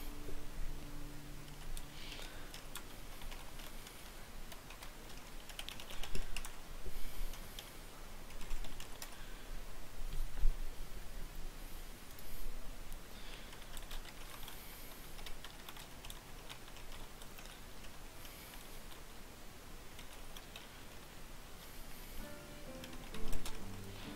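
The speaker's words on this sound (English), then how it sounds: "So yeah, sorry, just typing there." Fingers type on a computer keyboard nearby, quiet irregular clusters of key clicks running in bursts with brief pauses, alone without talk.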